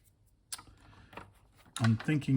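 Keys clacking on the mushy membrane keyboard of a Byte ZX Spectrum clone, a few soft taps spaced out and then a quicker burst of presses, close by, with someone talking in between.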